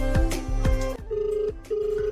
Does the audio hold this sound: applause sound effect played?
no